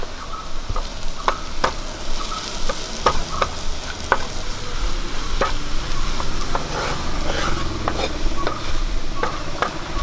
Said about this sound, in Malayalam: ഇനി ഇതൊന്ന് വഴറ്റി കൊടുക്കാം.